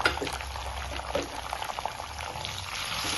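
Green chillies and shallots frying in a pan with curry leaves, a dense continuous sizzle and crackle close up for a few seconds, no speech.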